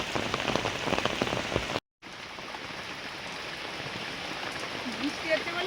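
Heavy rain pours steadily onto surfaces around a village home, a dense continuous hiss that breaks off for a brief moment and then carries on just as strongly.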